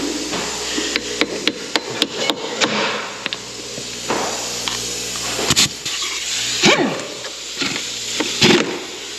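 While a skid steer is being repaired, a hammer strikes metal in a series of sharp, irregular blows. Some come in quick clusters, with scraping and shop noise in between, and the blows are close and fairly loud.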